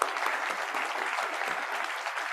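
A club meeting audience applauds its president in a steady, dense wash of clapping that fills the room, close and even in loudness, with no voices over it.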